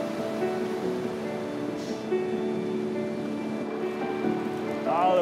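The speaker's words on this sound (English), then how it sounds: "the wind is so strong, it's really whipping up the waves here" On a windy Sea of Japan seashore, strong gusts drive waves against the sand, giving a continuous, rough roar of surf and wind that swells slightly near the end, with no talking.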